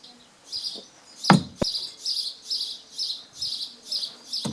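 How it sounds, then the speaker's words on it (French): Garden birds chirp and tweet in a steady run of bright, repeated calls, fairly close, with a couple of sharp knocks early on and no talk. "mes supporters, c'est-à-dire les oiseaux de mon jardin. Vous avez pu remarquer qu'ils se manifestent assez bruyamment."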